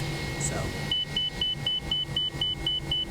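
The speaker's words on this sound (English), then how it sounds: "nice beep." Repeated electronic cockpit beeps from a Toliss A319 airliner in X-Plane 11, about nine short evenly spaced tones over a steady cabin and engine hum, with a brief spoken word near the start.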